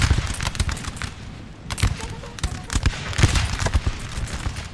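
Musket volleys in Napoleonic Total War 3 crackle as rapid, overlapping rattles of gunfire, steady and loud across the whole stretch over busy battle noise.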